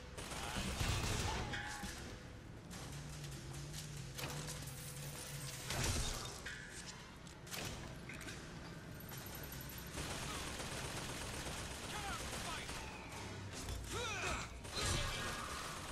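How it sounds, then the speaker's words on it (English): Automated turret gunfire in the video game BioShock Infinite, loud bursts of rapid mechanical shots amid clanking game effects and chaotic combat noise, running steadily throughout. "Oh, turret."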